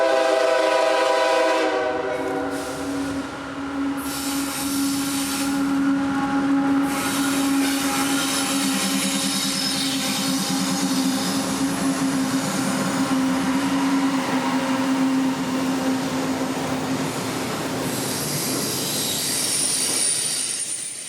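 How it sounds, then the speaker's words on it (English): A long CSX IO25 intermodal freight with auto racks up front slows into Chattanooga, its horn sounding in long tones over steady rolling rumble and squealing wheels, close and loud with no voices. "a huge train coming into Chattanooga for a crew change"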